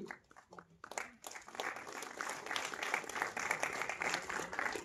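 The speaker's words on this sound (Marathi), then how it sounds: "जोरदार टाळ्या वाजवूया आपण" At a book launch attended by Deputy Chief Minister Eknath Shinde, a few scattered claps quickly swell into sustained, loud applause from a large crowd that continues steadily to the end.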